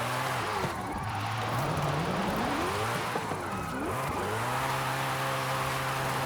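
A car engine in Forza Horizon 5 revs hard while drifting sideways, its pitch repeatedly sweeping up and down as the throttle is worked, loud and close with steady tyre and wind noise underneath.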